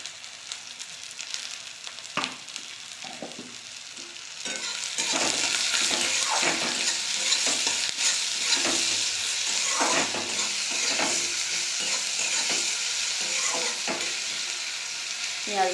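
Chopped onions with salt fry and sizzle in a pan, a steady loud hiss with frequent stirring clatter and scrapes throughout, no voices.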